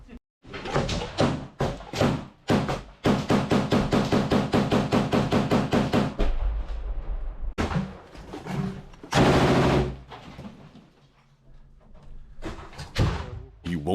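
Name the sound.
gunfire in a battle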